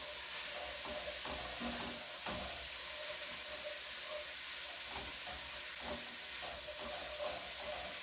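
Coq au vin with carrots simmering and sizzling in a pan, a steady bubbling hiss with occasional soft stirring knocks, close and continuous with no talking.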